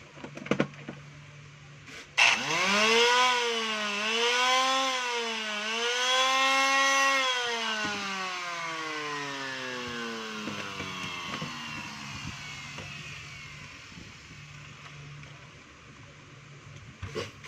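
A DeWalt DWE6411 finishing sander runs with its platen and bearing removed. It gives a close, loud motor whine that spins up sharply, wavers in pitch, then winds down slowly toward silence.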